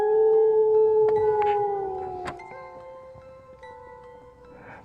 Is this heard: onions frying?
no